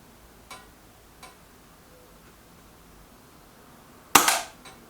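A Reximex Mito S air gun fires one sharp, loud crack near the end, preceded by two faint clicks, in an otherwise quiet setting.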